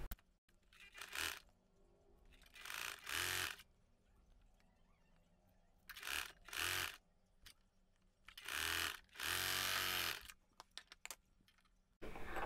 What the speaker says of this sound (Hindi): अब यहाँ से सिलाई लगाएंगे।